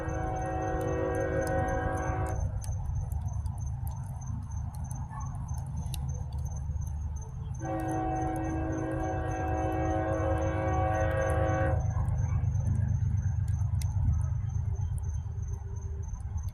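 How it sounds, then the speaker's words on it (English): A train rumbles steadily nearby while its horn sounds two long, loud blasts separated by several seconds. "we're gonna listen to this train just a minute"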